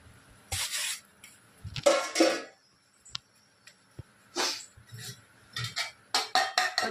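Broken raw finger millet pieces dropped into a pot of boiling water for kezhvaragu koozh, giving a few separate splashing, clinking bursts with quiet gaps between them.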